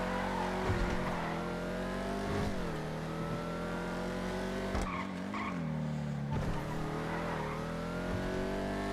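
A car in a video game drives with a loud steady engine drone that rises and dips as it revs, while tires skid and squeal repeatedly, close and continuous throughout.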